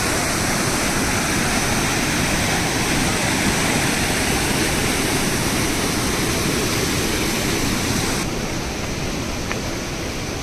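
A small waterfall on the Avalanche Lake trail in Glacier National Park, Montana, rushes in a loud, steady roar of falling water that fills the whole clip and stays close and constant.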